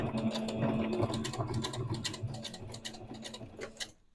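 Sewing machine stitching through a paper album page, a steady rapid ticking patter of the needle running continuously and close before stopping at the end.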